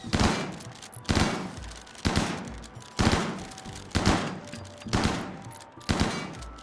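Loud bursts of gunfire in a colony-building video game, six evenly spaced volleys about a second apart, each a sharp crack trailing into a brief rattle, dominating the quieter game sounds.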